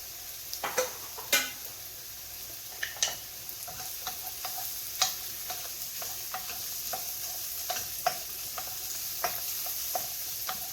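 Homegrown mushrooms sautéing in a pan give a soft, steady sizzle punctuated by repeated close clicks and scrapes of a utensil stirring, louder in the first seconds.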